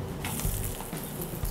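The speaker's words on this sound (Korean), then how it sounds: "대파 넣고 중불에서 살짝 볶아주세요" Chopped green onion sizzles in leftover oil in a pan over medium heat, a steady, dense frying hiss with small crackles throughout, close and fairly loud, with no talking.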